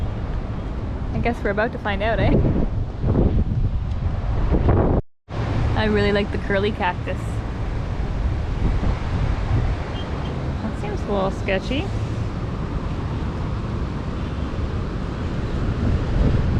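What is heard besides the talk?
strong wind on a rooftop by the Caribbean Sea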